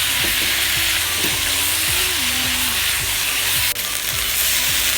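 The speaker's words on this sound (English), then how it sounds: "Just stir fry them really nicely." Steady loud sizzling of beef stir-frying in a hot pan, with rhythmic scraping of a utensil stirring it, and no talking.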